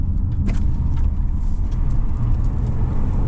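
A 2026 Jaecoo J5 EV electric SUV accelerating hard from inside the cabin, giving a loud, steady rushing road and motor noise with faint clicks, continuous and close, no voices.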